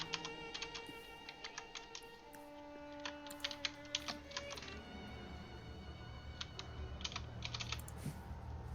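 Keys clatter on a computer keyboard in irregular bursts of typing, faint and close, during an online D&D game night with no one talking.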